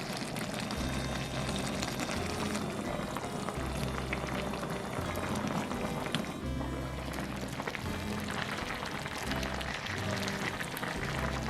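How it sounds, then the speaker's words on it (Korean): Kimchi stew with sour kimchi, red pepper flakes and tomato sauce simmering over medium-low heat in a pot, a steady close bubbling and sizzling that continues throughout without speech. "고춧가루와 토마토 소스를 넣어 중불 이하에서 1시간 뭉근히 끓이세요."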